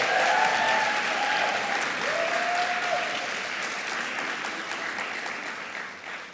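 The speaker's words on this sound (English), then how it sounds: "give a round of applause for Catherine" An audience at a university year-end ceremony gives an awardee a warm round of applause, loud and steady at first and slowly thinning, with a few faint voices in the crowd.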